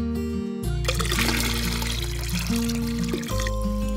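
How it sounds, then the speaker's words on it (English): Water pours steadily into big stone jars as a cartoon sound effect, a continuous splashing gush over a bright, sustained musical backing. "Jesus told them to fill the jars with water."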